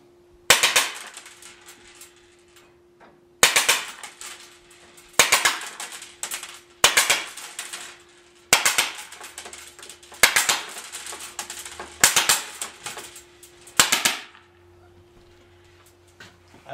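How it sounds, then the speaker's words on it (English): An IZH Drozd CO2 BB pistol fires fully automatic bursts into a ballistic curtain trap: about eight sharp, loud rapid-fire bursts separated by short pauses, each a dense clatter of pops and impacts, with a steady faint hum beneath. "Let's see what happens when we throw some BBs into this trap."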